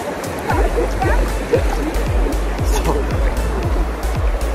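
Waves splash at a beach resort shore in a repeating surging rhythm, close and loud, with steady water noise under people talking nearby.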